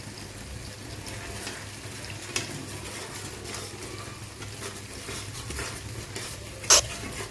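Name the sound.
spice paste being stirred and sizzling while frying in a pan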